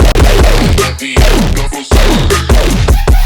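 Heavy Serum synth patch from a remix remake, run through Fat Rack with fat at 127 and stereo at 150 plus OTT with boosted highs: loud, dense rhythmic stabs with downward pitch sweeps and brief gaps.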